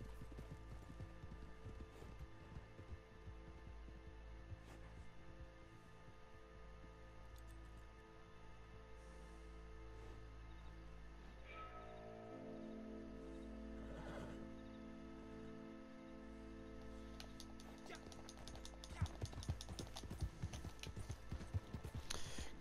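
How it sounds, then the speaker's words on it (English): Horse hooves clip-clop in Red Dead Redemption 2, a faint, steady rhythmic plodding beneath game ambience and music, growing a little busier and louder toward the end. "Let me call him a horse."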